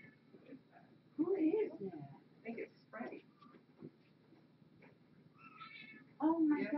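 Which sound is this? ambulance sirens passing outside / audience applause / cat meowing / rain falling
cat meowing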